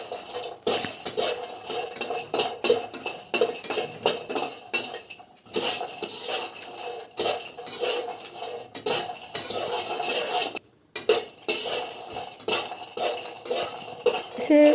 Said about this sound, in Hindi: इस तरह से फ्राई करते हुए मखानों को चेक कर लेना है